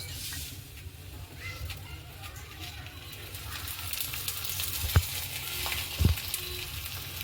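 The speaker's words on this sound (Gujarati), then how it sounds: "આ રીતે આપણે બધા જ થેપલા શેકી લઈશું।" Methi thepla flatbread roasts on a griddle with a low, continuous sizzle and crackle, broken by a couple of brief knocks near the end, with no voices.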